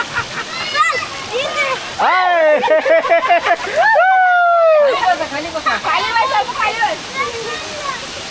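Water from a small monsoon waterfall at a family picnic spot in Devgad, Konkan splashes steadily beneath loud, excited children's voices calling out close by.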